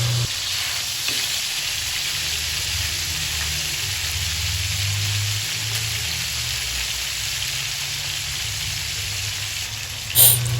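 Chicken adobo frying in a pan gives a steady, dense sizzle that holds evenly throughout, with a brief clatter near the end.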